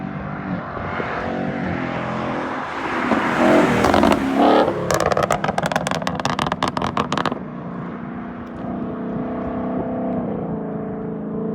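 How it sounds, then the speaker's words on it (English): A tuned 2018-2019 Mustang GT V8 downshifts while braking in normal mode, its engine rising in pitch and then settling, with a burst of rapid crackling pops partway through before a lower steady rumble. "So now the vehicle is downshifting in normal mode, everything is completely normal."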